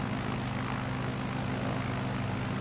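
A propeller airplane engine drones steadily in a flight simulator game during a calm morning bush-trip flight over Nevada, a continuous low hum with no talk.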